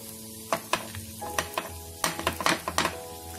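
Sooji bread roasting in a pan over a low flame, a soft continuous sizzle broken by a string of light scraping and tapping knocks from a utensil, fairly close and moderately quiet.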